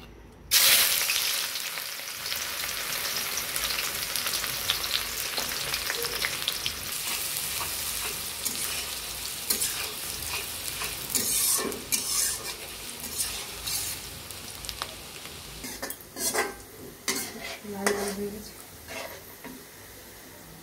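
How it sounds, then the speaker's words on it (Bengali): Sliced onions crackle and sizzle in hot oil, fried crisp as beresta for chicken khichuri, a continuous loud frying hiss with bursts of bubbling and occasional stirring scrapes. "তেল গরম হয়ে গেছে, এখন কিছুটা পেঁয়াজ আমি বেরেস্তা করে নেব।"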